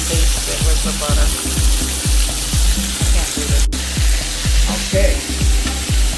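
A steak sizzles loudly on a hot grill with a dense, continuous frying hiss and repeated low thumps, while a voice briefly speaks over it.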